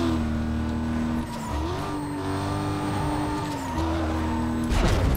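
An Aston Martin is driven in the Need for Speed: Most Wanted racing game, with a steady, close engine note whose pitch shifts with the revs and a brief tire squeal near the end. Nobody speaks.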